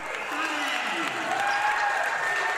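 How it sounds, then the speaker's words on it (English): The home crowd at a high school boys basketball game cheers and claps in a steady, loud roar, with a commentator talking over it. "That gets the home crowd going"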